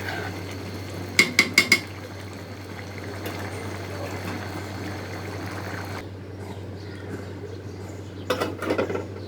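A spoon scrapes and clinks against a cooking pot while khichuri and chicken are stirred: a quick burst of four metallic knocks early on, a quiet stretch, then a shorter cluster of clinks near the end over a low steady hum.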